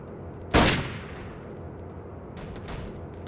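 One sharp, loud gunshot in the first-person game Trespasser, with a short decaying tail, followed a couple of seconds later by a few fainter, distant reports against low ambient rumble.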